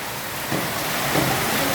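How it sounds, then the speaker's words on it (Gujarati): A heavy downpour outside gives a short stretch of constant rushing rain noise, broad and even, with a few faint knocks and no talking. "હા બમ બમાટ વરસાદ પડે છે"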